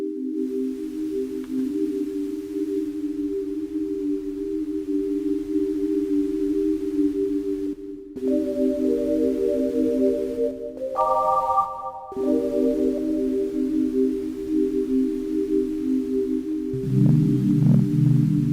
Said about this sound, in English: And maybe just a touch of white noise over this.